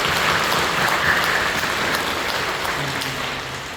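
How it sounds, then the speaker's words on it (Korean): A church congregation claps together during a worship service, a dense, steady wash of applause filling the sanctuary and holding evenly before tapering slightly toward the end. "우리 격려하며 박수해 주시죠"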